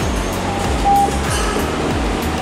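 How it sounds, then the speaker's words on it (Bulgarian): A Sofia metro train pulls out of the station with a low, steady rumble and rhythmic wheel clicks over rail joints, plus a brief tonal whine, heard close and fairly loud. "И изпращаме метрото, казваме му чао!"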